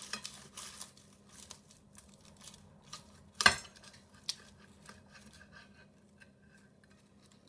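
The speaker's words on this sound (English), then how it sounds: "if you bear with me 1 second, we'll just slice into this" A knife cuts into a home-made beef Wellington with quiet crunching of pastry and soft scraping. A single sharp knock of cutlery on a plate lands midway, and faint clinks follow.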